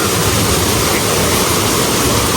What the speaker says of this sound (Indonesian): ini salah satu air terjun yang paling tinggi katanya di kawasan Taman Nasional Gunung Pangrango